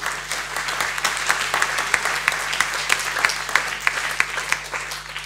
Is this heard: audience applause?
yes